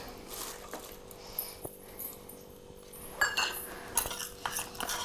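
Soft, faint scraping and light clinks as turmeric and oil are stirred together in a small bowl, intermittent and close, with low background hiss.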